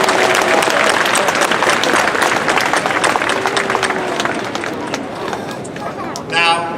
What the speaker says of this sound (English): give a big round of applause to your dads today.